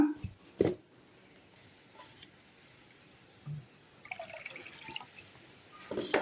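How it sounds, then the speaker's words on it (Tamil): Faint water poured from a jar and splashing into a pan of ration parboiled rice batter, with a few soft drips and clinks in a quiet room. "கொஞ்சமாக ஜாரில் தண்ணி ஊற்றி அதையும் கலக்கி ஊற்றிக்குங்க"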